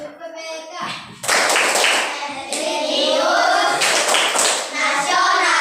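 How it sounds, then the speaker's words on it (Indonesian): Schoolchildren in a fifth-grade classroom clap out the PPK chant in rhythm, sharp group claps alternating with their chanted voices. "Yuda yang akan pimpin tepuk PPK dengan salam"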